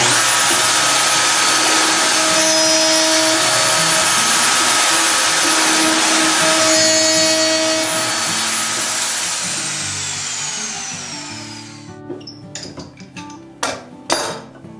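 A handheld router cuts a mortise into wood with a loose-tenon mortising block, a loud steady high-pitched whine that spins down toward the end, followed by a few wooden knocks and clatters.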